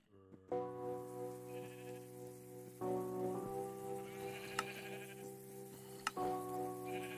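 Minecraft sheep in Hypixel SkyBlock bleating several times in a row, clear and close, with sharp game clicks and faint patter between the calls.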